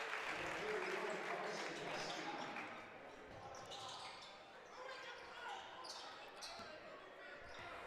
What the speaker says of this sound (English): Round of applause for Finn Diggins and Gabe Thompson as they exit